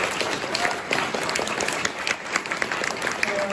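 A climate change conference audience gives a big round of applause to the people on screen, loud and close, with some individual claps standing out from the mass and a few voices faintly audible underneath.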